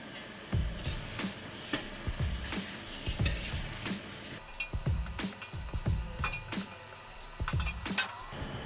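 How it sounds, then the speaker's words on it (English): Bulgur is stirred in a hot pot for a Turkish bulgur pilaf. Repeated scraping spoon strokes come in a loose rhythm over a steady background sizzle, close-up, with no talking. "Add bulgur and mix."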